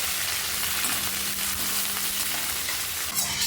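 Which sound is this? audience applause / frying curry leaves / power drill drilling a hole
frying curry leaves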